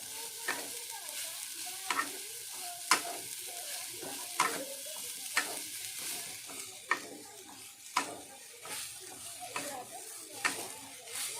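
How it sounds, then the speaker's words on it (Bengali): Sweet coconut filling with sugar is stirred continuously in a pan: rhythmic spatula scrapes and taps recur roughly every second over a faint sizzle, close and quiet, with no voices. "এবার এর মধ্যে স্বাদ মতো চিনি দিয়ে দিলাম দিয়ে এইভাবে ক্রমাগত নাড়াচাড়া করতে হবে"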